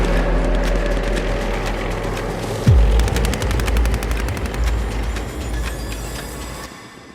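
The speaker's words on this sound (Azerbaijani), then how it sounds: "Amma bir gün bu sükutu güllə səsləri pozdu." Gunfire sound effect in bursts of rapid automatic shots, loud and close, with a deep heavy boom partway through and the firing fading toward the end.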